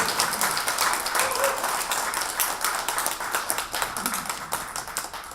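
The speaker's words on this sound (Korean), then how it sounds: "이상준 선생님 큰 박수로 한번 모셔볼까요?" An audience at a forum gives loud, dense applause to welcome a speaker to the front, a continuous roomful of clapping that holds steady throughout with no voices on top.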